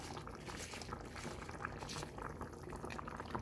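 Sinigang with salmon head bubbles at a steady boil in a pot, a soft, continuous burble of liquid heard close up but quietly, with no talking over it.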